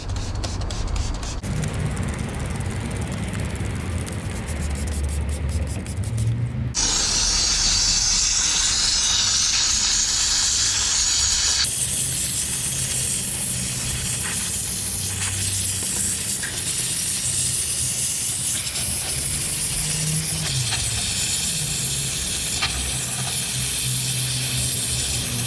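Aerosol cleaning chemical sprays onto an Audi A4 B8 xenon headlight housing, a steady loud hiss running nearly continuously and close, its tone shifting as the can moves between the bulb housing parts.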